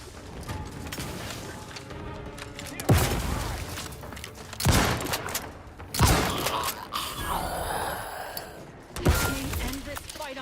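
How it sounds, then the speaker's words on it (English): Trench gun blasts in the video game Outer Worlds 2, four loud, widely spaced booming shots amid busy game noise and mechanical clatter, with a voice talking in between. "And I love me a trench gun"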